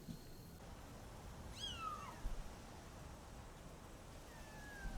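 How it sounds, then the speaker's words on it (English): Kittens give a few thin, rising meows, faint and somewhat distant, against a quiet indoor background with a couple of soft knocks. "Got a cat?"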